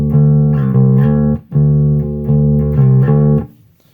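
Clean bass guitar tone through a boost circuit, a few loud sustained low notes played in a short phrase, close and undistorted, with no talking.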